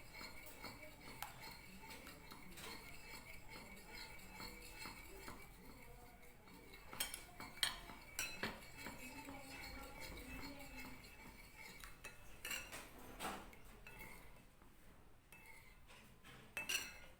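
A utensil stirs gulaman jelly mixture in a pot, giving faint scraping and occasional metallic clinks against the pot in an uneven rhythm, quiet and close.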